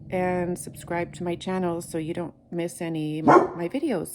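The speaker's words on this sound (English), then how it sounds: "Sorry about my dogs." Dogs bark and yip repeatedly in the background while a person keeps talking over them.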